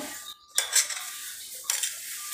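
Chopped onions and chili being mixed in a bowl for chotpoti, giving close metallic scraping and clinking of a utensil against the bowl in two bursts, separated by a short quiet gap, with no talking.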